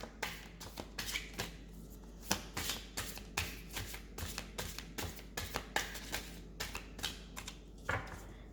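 Tarot cards shuffled by hand, a steady run of papery riffling bursts and soft taps repeating close up for several seconds, with no talking.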